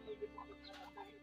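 Hens clucking on a small farm where laying hens are kept separately, a few soft, short clucks and calls close by, fairly quiet with faint background noise.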